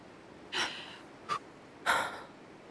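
Game character in Life is Strange True Colors taking three short, close breaths, two longer gasping inhales separated by a brief sharp one, with no talk over them.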